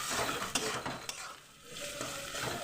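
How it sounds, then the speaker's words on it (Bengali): Onions frying with turmeric and salt in a pan, a steady close sizzle with stirring scrapes and a couple of sharp knocks, briefly dipping before the frying noise rises again. "এবার পেঁয়াজটা আমি ভেজে নেব"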